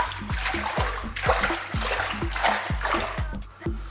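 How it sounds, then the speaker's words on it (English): Water from freshly washed spinach pours off into a colander, a steady splashing rush with rhythmic gurgling pulses that carries on without a break. "we're going to drain it back off into our colander"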